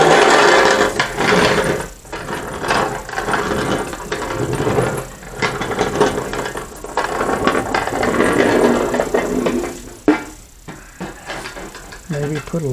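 Casters on a car dolly roll and rattle in a steady, grinding, ratcheting clatter close by, with brief pauses, as people talk over the noise.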